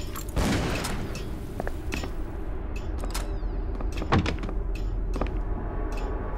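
Door in the Call of Cthulhu video game being unlocked and opened: a series of sharp clicks and clunks, a louder thud near the middle, and scattered mechanical knocks over a low rumbling game ambience.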